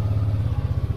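Motorcycle engine running just after an engine oil and gear oil change, a close, low, even idle putter with a regular pulsing beat, heard alone for a brief moment.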